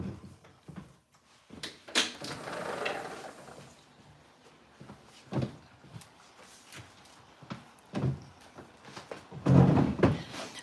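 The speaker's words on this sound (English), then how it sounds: "Let me crack this door." A kitchen door is cracked open amid scattered thumps, clunks and shuffles, with several dull knocks spaced through the scene and a heavier thud near the end, fairly quiet overall.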